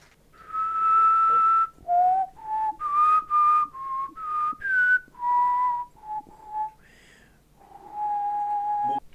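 A person whistles a film theme, a close, clear melody of sustained notes in short phrases with brief pauses between them, heard on its own without talk.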